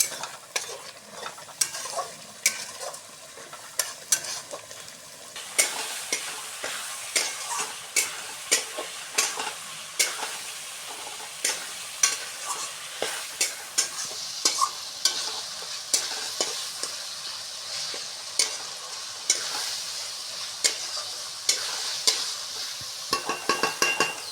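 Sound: spice masala being sautéed in oil for fish kaliya

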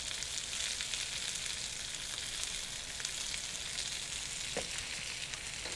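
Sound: green beans charring and sizzling over fire

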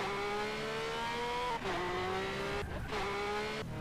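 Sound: Lamborghini driving in the video game GTA San Andreas

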